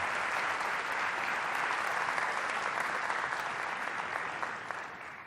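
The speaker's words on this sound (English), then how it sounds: "Let's have a round of applause." A conference audience at a tech trends talk breaks into dense, sustained applause, a loud wash of many hands that holds steady and fades slightly at the close.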